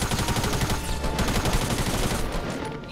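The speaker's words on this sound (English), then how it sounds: "purple SMG lasers people" A purple SMG in a Fortnite squad match fires in rapid, continuous bursts, loud and close, with crackling shots running almost unbroken for about three seconds.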